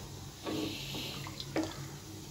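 Hot water from a kettle poured into a simmering pot of bottle gourd curry, a short splashing pour with two brief surges, fairly close and steady, no voices.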